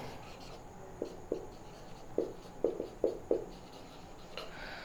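Chalk or marker tapping and scratching on a board during a physics lesson on refraction, giving a handful of short, sharp strokes over quiet room tone, close by with no talk.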